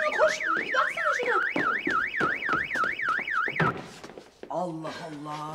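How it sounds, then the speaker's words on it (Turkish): A car alarm wails in a fast rising-and-falling electronic sweep, loud and repetitive, then cuts off and is followed by a short series of chirping beeps. "Alarm mıydı o öten?"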